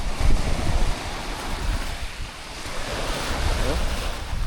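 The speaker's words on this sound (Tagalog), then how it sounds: "Ang taas ng dagat guys." Strong sea waves surge and crash steadily at a beach resort, mixed with heavy wind buffeting the microphone, a continuous loud roar with no talking.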